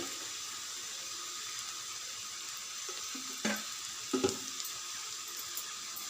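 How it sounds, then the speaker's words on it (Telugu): Water runs into a hot pan of potato, broad bean and tomato curry with a steady, even hiss throughout, broken by a couple of brief metallic clinks near the middle. "కొన్ని వాటర్ పోయాలి"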